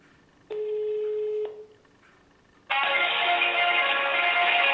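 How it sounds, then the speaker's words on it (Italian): A phone call placed on speakerphone from a Nokia Lumia 920 running Windows Phone 8 gives a short tone, a pause, then a loud sustained ringback-style tone, with no talking. "Faccio vedere una telefonata al 190"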